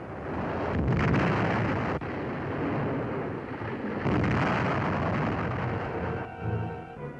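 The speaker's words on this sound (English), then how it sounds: "explosions continue" Heavy booming blasts and a rumbling roar swell and fade as explosions rip through the burning aircraft carrier USS Franklin after Japanese attacks. The bursts are loud, with sharp cracks between the surges.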